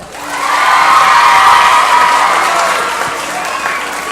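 Audience applause fills a school concert hall, swelling within half a second into dense, sustained clapping with some cheering, then slowly tapering over about four seconds.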